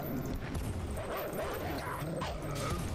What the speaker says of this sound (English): No dogs! I don't want to kill dogs!